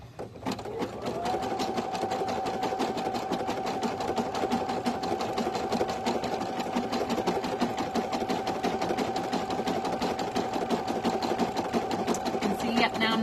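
An embroidery machine stitches an in-the-hoop design with a steady, rapid needle chatter over a constant motor whir, close and unbroken throughout.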